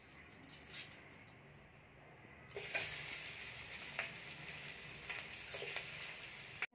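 Hot oil sizzles in a kadai while making brinjal chutney: a soft hiss for the first couple of seconds, then a sudden louder, steady crackling sizzle with a few sharp pops and clinks, close and continuous, with no talking.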